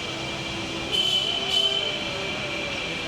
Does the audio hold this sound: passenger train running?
yes